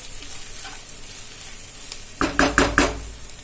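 Spices fry in oil in a pan for palak paneer, with a soft background sizzle. It turns into several loud, close stirring scrapes and knocks toward the end.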